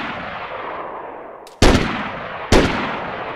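Gunfire rings out in the video game DayZ: two sharp, loud shots about a second apart, each trailing off into a long reverberant tail over a steady background hiss.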